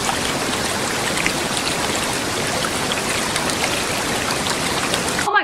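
Steady murmuring of the Maruhara river stream, a dense, even rush of flowing water that stays close and constant from start to finish, with no voices.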